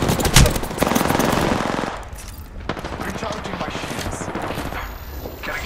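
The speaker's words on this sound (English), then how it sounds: "Getting shot at." Rapid automatic gunfire rattles in the video game Apex Legends, with dense bursts of shots up front that ease into lighter, scattered firing, and a faint voice underneath.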